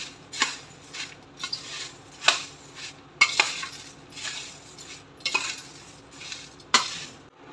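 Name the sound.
mixing dry bhel with spoon in bowl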